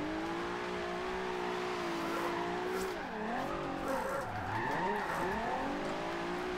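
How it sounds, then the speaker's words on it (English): Nissan GTR drifting in Forza Horizon 2, a loud continuous tire squeal over a droning engine that wavers and dips as the car slides, with no talk. "you do want grip in drifting to try and get it stable"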